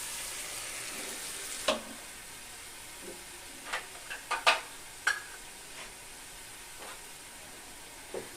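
Spice paste hits hot oil in a pan while cooking a rui fish dish, giving a soft steady sizzle with brief spitting pops and stirring clatter scattered through, fairly quiet and close.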